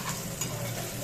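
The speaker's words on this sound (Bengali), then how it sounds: "এর মধ্যে আমি বেগুনটা আরেকটু লাল লাল করে ভেজে নিই" Eggplant fries in a pan with a brief, steady close sizzle and a light stirring scrape.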